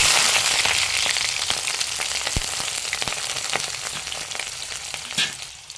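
Onions and green chillies sautéing with mustard seeds in hot oil sizzle loudly and close, with steady crackling and occasional sharp pops, easing slightly toward the end.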